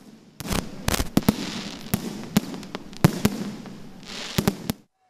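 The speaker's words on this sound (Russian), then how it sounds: "небо над Грозным озарил красочный фейерверк" Fireworks burst in the sky over Grozny after a festive dinner, a rapid string of sharp loud bangs and crackles with a rumbling tail, ending abruptly in silence.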